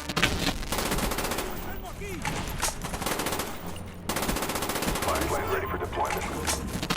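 AK-74U submachine gun in the video game Call of Duty: Black Ops, firing long rapid bursts amid dense, busy battle noise with brief gaps between bursts.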